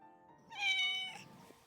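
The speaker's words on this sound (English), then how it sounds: "Why are you meowing?" A single drawn-out cat meow, rising and then falling, fairly quiet and close, with no other sound around it.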